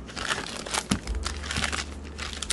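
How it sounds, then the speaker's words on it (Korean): Crinkling paper or foil wrapping around homemade diet protein bars, a dense, continuous close-up rustle with small crunchy bursts, heard alone without talk. "종이호일로 사탕 모양처럼 포장하거나"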